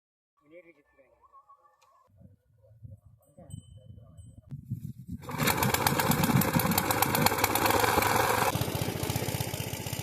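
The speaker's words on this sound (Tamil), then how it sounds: "நம்ம இன்ஜின் வச்சு தண்ணி இறைக்கிறோம்" An engine pump lifting water to irrigate a paddy field: a voice talks over quiet surroundings, then the engine starts and runs loud and close with a steady rapid chugging throb.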